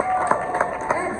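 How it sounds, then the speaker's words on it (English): A crowd at a charity auction during a furry convention's after-dark show claps in a few sharp, evenly spaced bursts, with voices and crowd noise going on underneath. "Clap for these people."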